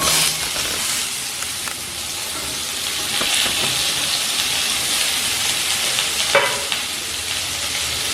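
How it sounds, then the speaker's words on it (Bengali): Thick, long-cut pumpkin pieces fry in mustard-seed oil in a pan over a medium flame, giving a steady, close sizzle with occasional stirring scrapes and no talk. "ফ্লেম মিডিয়ামে রেখে কুমড়ো ভাজা ভাজা করে নেব।"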